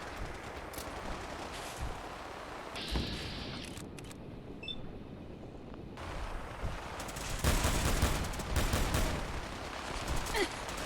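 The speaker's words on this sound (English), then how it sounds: "Taking fire!" Gunfire in modded Fallout 4 survival gameplay crackles in scattered bursts and single sharp reports, growing denser and louder toward the end over a constant background hiss.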